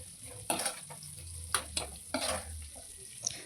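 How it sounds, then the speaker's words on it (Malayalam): Spice powder sautéing for a fish curry, with soft stirring scrapes and a low sizzle, a few sharper scrapes of the spoon against the pan standing out, close and fairly quiet. "അത് ചേർത്ത് നല്ലോണം ഒന്ന് വഴറ്റി കൊടുത്തിട്ട്"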